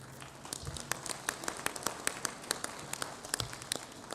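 An assembly audience at a football confederation general assembly claps, giving a loose, uneven patter of individual hand claps with sharp scattered peaks, fairly close and with no talking.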